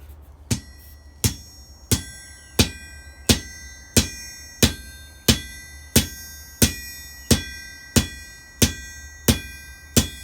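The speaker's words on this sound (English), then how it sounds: "when you're hammering, you want to hit pretty much the same spot on the anvil each time" Steady, evenly spaced metallic hammer blows ring out on an anvil, about fifteen strikes with a bright ringing decay after each.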